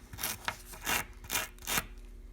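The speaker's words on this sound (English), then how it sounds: "scrape off any loose dirt off the pulleys in the cage. For this you can just use a brush." A brush scrubs loose dirt from the pulleys and cage of a Shimano Light Action L525/L523 derailleur, giving four bristly scraping strokes in a steady back-and-forth rhythm, close and fairly quiet with no talking.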